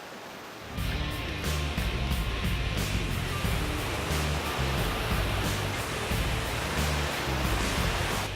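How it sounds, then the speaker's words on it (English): Creek water rushing in a steady, broad wash of noise that starts abruptly and stays loud and continuous, with no voices over it. "Well guys, we're on a creek here."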